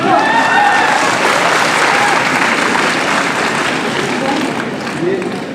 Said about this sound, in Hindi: ये ताली इसलिए बज रही है